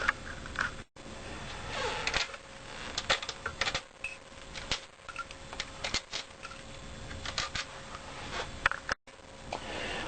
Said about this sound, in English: The next step is to remove these screws from the Kirby.